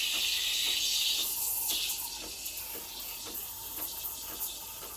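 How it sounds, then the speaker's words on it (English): Milk hisses and gurgles under the steam wand of a Breville Barista Express BES870 espresso machine, a steady close-up stream of airy noise with faint periodic sputters as the milk is frothed. "So that's full steam now. I'm gonna turn it off and quickly put it inside the milk."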